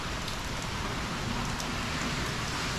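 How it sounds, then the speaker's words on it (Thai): Light rain falls steadily ahead of Hurricane Ian, an even, dense patter on surfaces with no voices, continuous for the whole stretch. "ตอนนี้ฝนกำลังตกมาโปรยปลายนะครับพายุใกล้จะมาถึงแล้ว"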